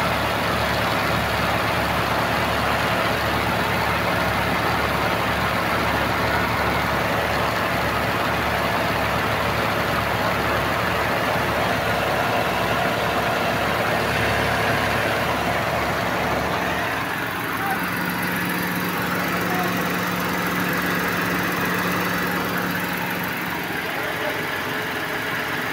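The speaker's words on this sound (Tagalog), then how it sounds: "So ayan, gumana na. Gumana na yung clutch." A Hyundai Eon's engine idles steadily and loudly with its air-conditioning compressor clutch engaged, a continuous low hum that shifts in tone partway through as the clutch kicks in. The drone fills the whole stretch.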